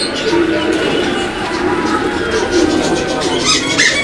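Low, throaty pigeon cooing murmurs steadily beneath a busy background of chatter and bird noise at a pigeon farm, continuous and fairly loud throughout.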